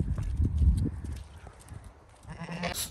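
Rams and sheep on a small farm with chickens and cows: hoof clatter and shuffling movement close by, a brief bleat-like call near the end, with light background murmur.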